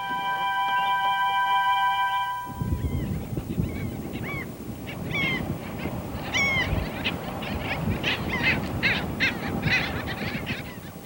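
Geese honk repeatedly beside a river in a biosphere reserve, a dense chorus of overlapping calls over steady water rush, fairly close and loud with no voices.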